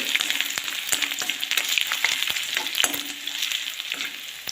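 Ginger frying in hot oil for a pickle, a bright continuous sizzle close up, broken by sharp spatula taps and scrapes against the pan.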